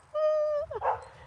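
A dog gives a single high whining yelp that breaks into a short bark, fairly close, over low background rumble; no one speaks.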